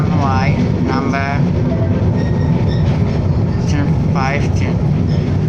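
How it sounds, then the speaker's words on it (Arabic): Milan tram number 15 riding toward Piazza Duomo, a steady loud rumble of the car rolling on its rails throughout, with someone talking over it. "tram Y numero 15, e stiamo andando verso Piazzale Duomo"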